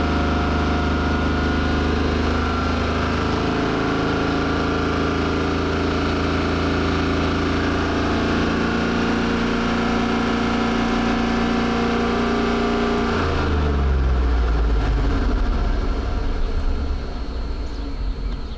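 A car engine revving and held steady at about 3,000 RPM, producing a loud, even mechanical drone with layered tones that drops abruptly near the end as the engine settles back down.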